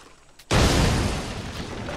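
A powder keg barrel in Assassin's Creed bursts into a loud, close explosion after a gunshot, a sudden blast that rumbles and crackles on for over a second after a quiet lead-in.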